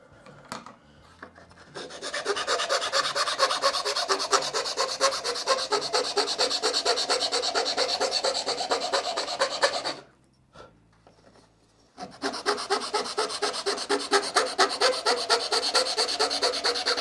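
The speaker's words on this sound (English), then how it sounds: "Sure, I could use a rasp that takes off a little bit more material" A rasp files a piece of wood being shaped into a wooden backplate, with rapid, rhythmic scraping strokes. The rasping runs steadily, breaks off briefly for a near-silent pause, then resumes with the same close, dry texture.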